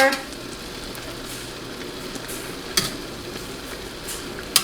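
Oil sizzles steadily around food frying in a small dish fryer, a continuous crackling hiss with a couple of sharp louder pops near the end, a voice briefly audible early on.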